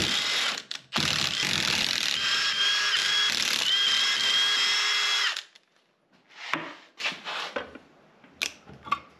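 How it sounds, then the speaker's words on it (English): An impact wrench fitted with a 12mm socket rattles loudly for about five seconds while removing an input cover's bolts, followed by a few shorter bursts and clinks of parts being handled. "So we just got our impact here, 12mm socket. We'll just pop this right off."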